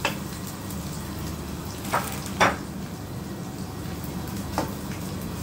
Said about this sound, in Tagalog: Habang piniprito natin yan, isabay na natin yung bawang.